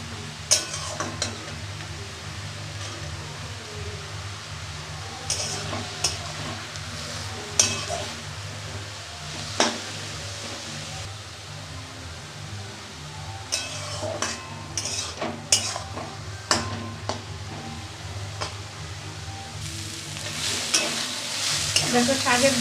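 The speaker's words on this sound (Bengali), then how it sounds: "দেখো শাকের জল একদম নেই, পুরো টেনে গেছে, তার মানে আমার শাক ভাজাটা হয়ে গেছে" Red amaranth greens fry with green chillies and garlic in a pan, giving a steady sizzle broken by repeated scraping and clinking of a stirring utensil, with no talking.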